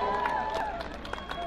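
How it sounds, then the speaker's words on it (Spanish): A crowd claps and cheers at a jaripeo rodeo in San Juan Tumbio, dense outdoor applause with scattered shouts, fairly faint and steady through the short stretch. "Regálenme fuerte el aplauso a mi público"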